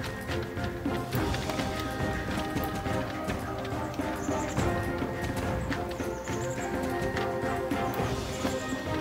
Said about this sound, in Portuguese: esse aqui é que tem um cavalo Shire ali